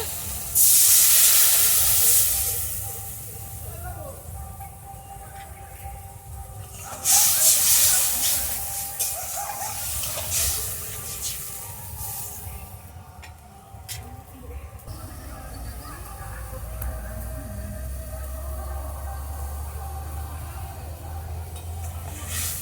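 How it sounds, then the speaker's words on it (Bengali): A vegetarian pointed gourd curry simmers after coconut water is poured in, giving a continuous close bubbling hiss that swells loudest at the start and again partway through. "ঝোলটা ফুটে উঠেছে"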